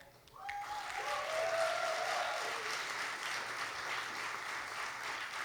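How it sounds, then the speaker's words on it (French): An audience at an arts and culture awards ceremony applauds steadily for several seconds, the clapping swelling quickly and then holding at an even, dense level. "Oui, on peut applaudir."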